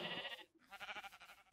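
A sheep in a Minecraft-style video game bleats twice, a quavering baa followed by a second wavering call, fairly quiet with no talking over it.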